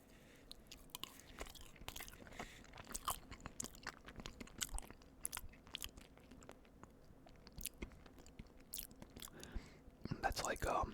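Soft, close chewing of Walmart cheesecake, with quiet irregular bites and wet mouth clicks over a faint background hum, then a short louder burst near the end.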